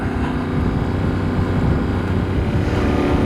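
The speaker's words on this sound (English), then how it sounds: "it's a heavier bike, so I get less acceleration than I'm used to from this engine" A Yamaha Tenere 700 motorcycle on the move gives a loud, continuous engine drone mixed with rushing wind noise, steady in pitch throughout.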